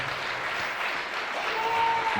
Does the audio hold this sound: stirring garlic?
no